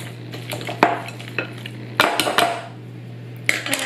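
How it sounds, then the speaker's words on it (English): Chopped tomatoes are mashed into a nacho topping in a bowl, giving a few close clinks and scrapes of a utensil against the bowl over a low steady background hum. "I'm just gonna give it a final mash in together"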